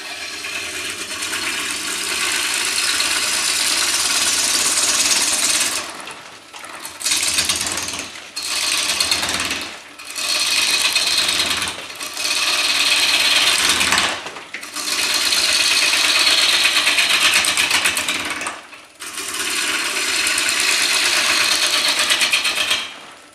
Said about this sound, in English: It's a lot of start and stop because you don't want your cutting gouge, your turning gouge to overextend the tool rest.